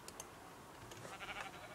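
Faint, brief bleats from Minecraft sheep, a couple of soft calls with nothing else going on.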